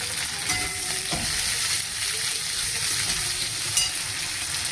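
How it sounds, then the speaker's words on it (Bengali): Thin-sliced potato and eggplant frying in a pan for a Bengali chorchori, a steady close sizzle with a faint stir or scrape partway through. "একটু আলু সরু সরু করে কেটে আলু বেগুন দিয়েছি, একটু চচ্চড়ি মতন হবে"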